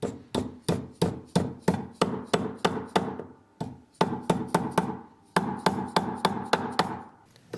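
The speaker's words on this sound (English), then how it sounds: "And I am going to use a plastic mallet for this so that I don't damage my silver." Plastic mallet tapping down a silver knot ring: a steady series of sharp, close taps in three bursts of about six to eight strikes each, with brief pauses between, no talk.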